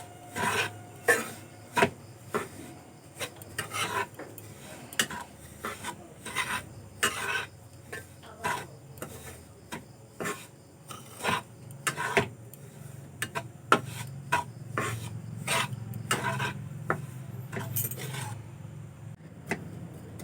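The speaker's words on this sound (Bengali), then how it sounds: "এইভাবে নাড়তেই থাকতে হবে, না হলে সুজি লাল হয়ে যাবে আর কড়াইয়ের নিচে লেগে যাবে।" Semolina dry-roasts in a wok over a low gas flame, with a spatula scraping and stirring in repeated rhythmic strokes, close and steady for the whole stretch with no talking.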